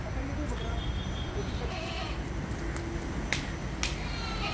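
Gujri goats bleating at a goat farm, a few short bleats over a steady murmur of farmyard noise and low background voices.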